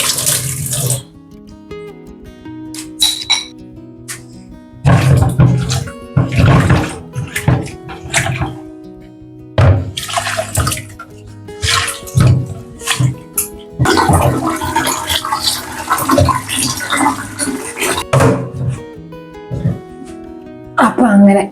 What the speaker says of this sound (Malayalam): ഉപ്പിട്ട് നമുക്ക് ഒന്നുകൂടെ ഒന്ന് കഴുകാം